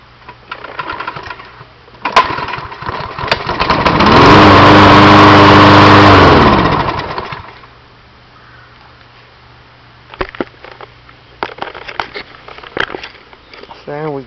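A Troy-Bilt lawn mower engine is pulled over and catches, climbing to a loud, steady buzzing run for a few seconds before dropping away, with rattling handling noises and speech around it.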